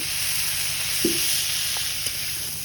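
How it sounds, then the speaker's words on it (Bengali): Bottle gourd leaves (lau shak) frying in a pan, a steady bright sizzle throughout with a couple of soft clinks of stirring. "গরম গরম একটু লাউ শাক ভাজি করে নিচ্ছি"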